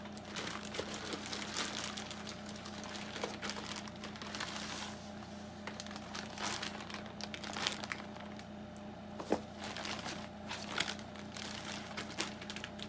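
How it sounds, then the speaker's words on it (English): A mailed package holding a Spectrum Vega+ is cut open and unwrapped, giving steady crinkling and crumpling of packing material with occasional sharper tearing and crunching, close and continuous, with no talk. "So cut open the packaging."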